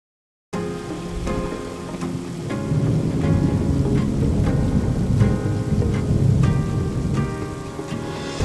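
Homemade thunderstorm effect made by shaking pans in a kitchen, a steady loud rumbling roar with rain-like hiss that starts abruptly and continues throughout, occasional sharper rattles, no voices.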